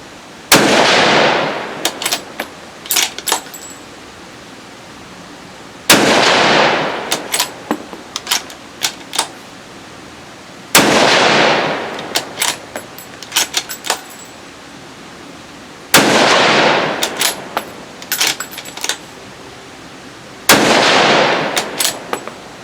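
Five loud .308 rifle shots fired at an outdoor range during a G2 Research Trident Ripout ammunition test, each a sharp blast with a long rolling echo, spaced several seconds apart with small clicks and rattles between them.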